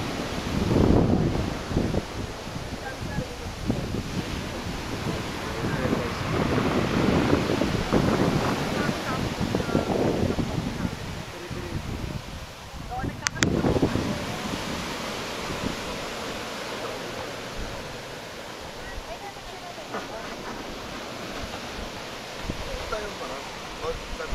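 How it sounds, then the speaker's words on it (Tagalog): Strong sea waves break against a seawall at Balwarte, Luna, La Union, a broad surging wash with wind buffeting that swells and recedes over about twenty seconds, with people talking at times. "Lakas ang alon dito"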